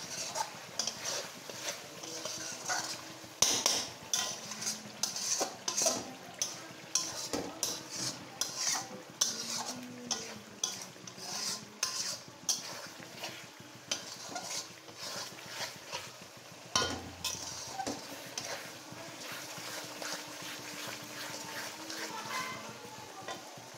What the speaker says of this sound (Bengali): মশলাটাকে সুন্দর করে কষিয়ে নিতে হবে